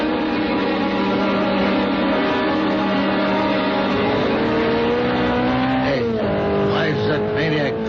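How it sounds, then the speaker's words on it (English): A sports car races past in a radio drama, its loud engine note rising and then bending down in pitch as it speeds by, with tire noise and a steady engine roar filling the clip. "A sports car looked like a Simonetti. I couldn't tell. Went by me too fast."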